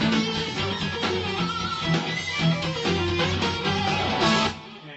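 A melody guitar plays a B section at a demo clinic, a continuous sustained passage with steady harmonic notes, moderately loud and alone without talk, ending abruptly near the close.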